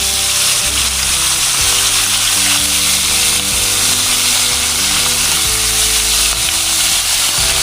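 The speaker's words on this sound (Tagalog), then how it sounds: "Prito tayo ngayon ng tilapia, malakapas, tsaka talakitok." Tilapia, malakapas and talakitok fish fry in oil in a pan, making a loud, close, continuous crackling sizzle with some low bumps and clatter underneath, and no talking.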